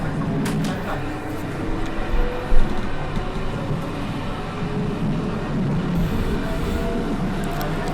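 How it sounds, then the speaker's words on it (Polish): Steady rumbling rail noise of a line 16 tram rolling along an overpass above a park and street, a continuous low drone with a brief clank partway through. "A nasz tramwaj linii numer 16 porusza się estakadą nad parkiem i ulicą"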